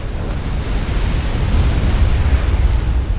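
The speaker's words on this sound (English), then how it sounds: "and the Strats drop their bombs" Strategic bombers' bombs exploding in Supreme Commander: Forged Alliance, a loud, deep rumbling blast that swells and roils continuously for a few seconds, heavy in the low end with no talk.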